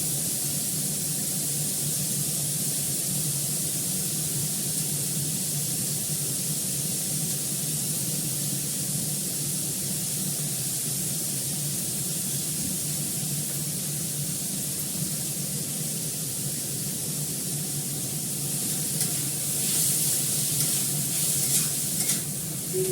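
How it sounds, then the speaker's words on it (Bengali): Food fries in a pan before an egg goes in, giving a continuous, even sizzle with a few louder crackling spatters near the end and no speech. "এটা একটু ভালো করে ফ্রাই করে নিই, এটার মধ্যে একটা ডিম দেবো।"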